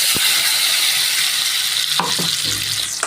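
Food frying in oil in a pan makes a loud, steady sizzle, with a few clattering stirs near the end. No one talks.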